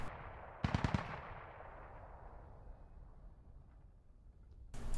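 Gunfire in the Squad video game, a quick burst of several sharp shots near the start, then a fading tail of reverb and a faint ambient bed, with another shot cut off at the very end.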